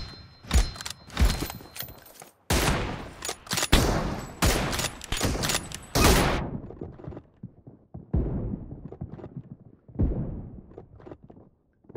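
Rapid bursts of gunfire ring out in the mobile battle game PUBG Mobile, with loud overlapping volleys for the first six seconds, then quieter scattered shots and thuds from further away.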